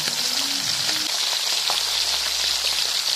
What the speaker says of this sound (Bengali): মাছগুলো ভেজে তুলে নেব।